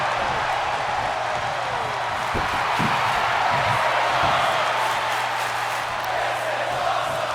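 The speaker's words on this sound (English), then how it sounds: "And you can hear the crowd" A wrestling arena crowd in WWE 2K roars and cheers steadily at moderate volume, with a few thuds from the ring and some commentary talk under it.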